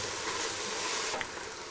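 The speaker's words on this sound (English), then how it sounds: "onions have cooked down a little more. Give it another stir." Onions for French onion soup sizzle steadily in a pot, a soft continuous hiss with a faint scrape of stirring partway through.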